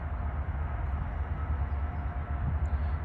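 An Amtrak passenger train rolls past around a curve, a steady low rumble and rail noise holding at moderate distance, with no talk over it.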